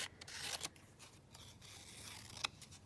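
Scissors snip through a small paper craft tag, giving several faint, close crisp cuts and rustles of paper, quiet and without talk.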